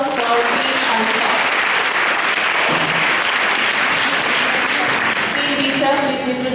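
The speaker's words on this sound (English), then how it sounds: "Give a round of applause for Team Alpha." A school audience at an inter-school math quiz applauds Team Alpha with loud, sustained clapping that carries on for several seconds, while voices can be heard over the applause.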